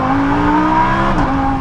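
A Lamborghini Huracan V10 engine pulls hard under acceleration, a dense steady roar with sustained harmonic tones, loud and continuous for a brief moment without any talking.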